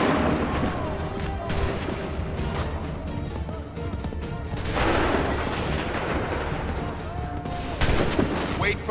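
Massed gunfire volleys crash out in the Assassin's Creed 3 video game, loud, dense overlapping shots and booms rolling continuously with a sharp burst near the end, voices shouting faintly underneath.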